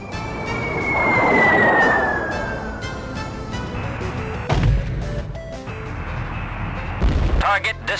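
Precision bombing run in the 1993 flight combat game Strike Commander: a long rumbling blast swells early, then sharp detonation bursts hit near 4.5 and 7 seconds over a steady droning background.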